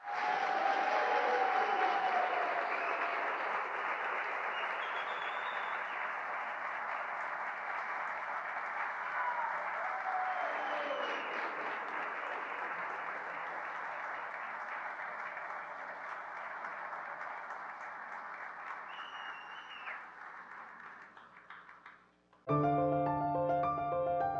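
Gala audience applauding award recipients, a sustained dense wave of clapping that gradually softens over about twenty seconds before cutting abruptly into a brief musical passage.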